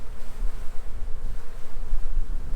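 Dense swarm of honey bees humming steadily and close during a spring backyard beehive inspection, a continuous low buzzing drone with no voices.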